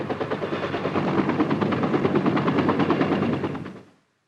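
A helicopter's rotor thumps in a fast, steady rhythm close by at a busy military refueling pad, loud and continuous, then cuts off abruptly near the end.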